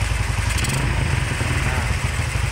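A Honda Tiger motorcycle engine idling at low speed during a charging-system check, giving a steady, loud, close low-pitched throb with an even pulsing rhythm and no revving.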